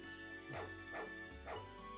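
A dog in the RPG Maker game Chronicles of Ardia gives three short, evenly spaced yips or barks that are moderately loud over a steady game music bed.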